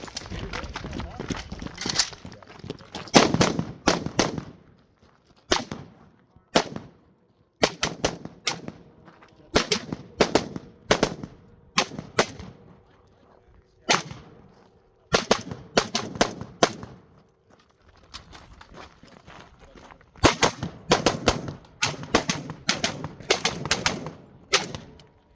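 Rapid bursts of rifle gunfire at a Texas run-and-gun shooting competition, loud, sharp volleys in clustered strings separated by short pauses across the whole stretch.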